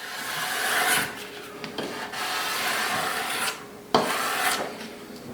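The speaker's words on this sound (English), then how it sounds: "just slowly drag it, you'll clean all the silicone off of there without scraping your fiberglass" Scraping silicone caulk off a fiberglass shower surface, a dry rasping drag repeated in several slow strokes, close and fairly loud with brief pauses between passes.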